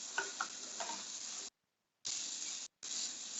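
Sausage and onions sauté in a pan for crawfish jambalaya fried rice, giving a steady loud sizzle with stirring scrapes. It breaks off twice into short silences before resuming.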